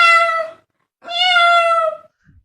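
A human voice imitates a cat, giving two clear, drawn-out meows in a row, close and alone against silence.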